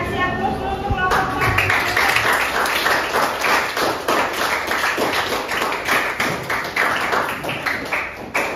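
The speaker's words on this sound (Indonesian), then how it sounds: "Terima kasih aplaus untuk kelompok" A group in a coaching session on academic supervision is applauded after presenting, with a dense, sustained round of clapping that starts about a second in and continues to the end.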